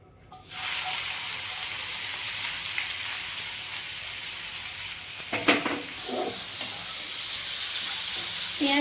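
Chopped onion and torn bay leaves frying in hot oil for a Bengali mango katla fish dish, a steady loud sizzle with a brief clatter of stirring partway through.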